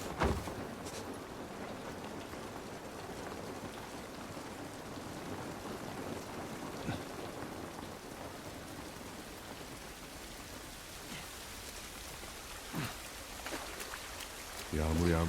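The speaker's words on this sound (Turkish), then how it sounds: "Yağmur yağması hiç iyi olmadı." Rain falls steadily in a video game scene, a constant hiss of drops with a few low rumbles and soft knocks, at a moderate distance and fairly quiet throughout.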